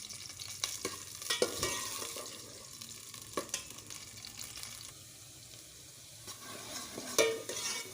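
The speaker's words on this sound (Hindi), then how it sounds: "अब ये प्याज इसमें" Chopped onions hit hot oil in a pan while cooking a tanda beef curry, giving a steady close sizzle with stirring scrapes and a few sharp clinks of the utensil against the pot.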